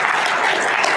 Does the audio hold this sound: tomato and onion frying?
no